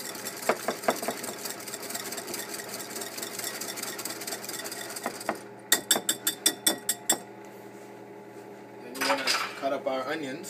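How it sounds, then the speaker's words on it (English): Crab cake mixture with heavy cream whisked in a bowl, a burst of rapid metallic clinks in quick rhythm up close, set between clattering kitchen handling and a low mechanical hum. "You want to whisk all of that together."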